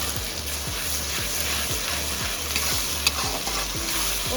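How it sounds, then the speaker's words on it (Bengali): Onion frying with ginger garlic paste sizzles steadily in a pan while a spatula stirs it in a quick, regular rhythm of scraping strokes, close and fairly loud. "আদা রসুন পেস্টটা দিয়ে একটু নেড়ে দেবো"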